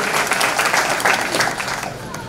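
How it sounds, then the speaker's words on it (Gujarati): Audience applause at a satsang gathering in Bapupura, a dense burst of many hands clapping together, steady and fairly loud for a couple of seconds with faint voices mixed in. "તાળીઓથી વધાવીશું."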